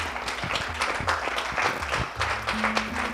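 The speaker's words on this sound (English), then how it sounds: "Please, a big round of applause." Applause from the audience at a Jain Paryushan community gathering honouring its teachers and volunteers, a steady dense patter of clapping sustained throughout, with faint voices underneath.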